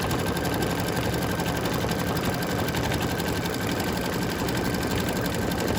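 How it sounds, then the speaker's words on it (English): An embroidery machine stitches an in-the-hoop earring holder in a 4x4 hoop, giving a steady, close, continuous rhythmic whirring and needle chatter that never pauses and has no talk over it. "So while it's stitching, let's catch up a little bit."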